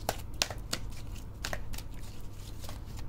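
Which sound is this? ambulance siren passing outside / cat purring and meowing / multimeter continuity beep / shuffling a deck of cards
shuffling a deck of cards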